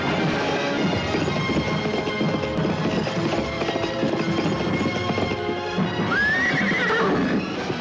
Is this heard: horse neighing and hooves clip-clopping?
yes